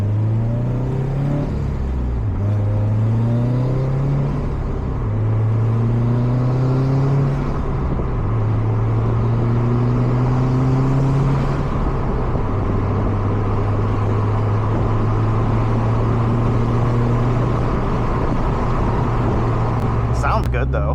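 A built 2005 Subaru WRX STI engine rumbles steadily while driving and engine braking, rising and falling in tone as revs change, close and loud, with a voice talking over it.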